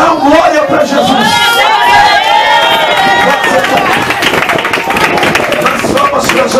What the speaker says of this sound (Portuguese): Mais palmas para Jesus, que ele merece.